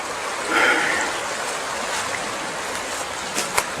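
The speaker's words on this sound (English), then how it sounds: "I don't want to really be along the noisy river" A noisy river flowing at night, a continuous rushing wash of water with a few brief louder splashes, steady and fairly close.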